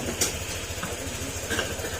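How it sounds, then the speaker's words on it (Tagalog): A Honda Click 125 scooter idles low with its idle speed set too low, giving a steady, close, even pulsing engine throb throughout, with no talk over it. "Kaya ganoon yung tunog ng motor niya kasi mababa yung minor"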